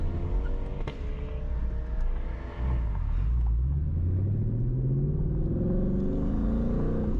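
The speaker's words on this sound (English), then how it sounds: "Those C8s, they get off the line pretty damn hard." A Corvette C8 launching hard off the line: a low rumble builds into a rising engine roar that sweeps steadily upward in pitch, heard from inside at moderate level with no talk.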